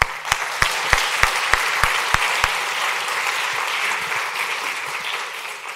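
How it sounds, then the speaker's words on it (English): Audience applause for a speaker being introduced at a blockchain and smart contracts talk, a burst of distinct sharp claps at first blending into a steady, fairly close wash of clapping from the crowd. "Give him a round of applause."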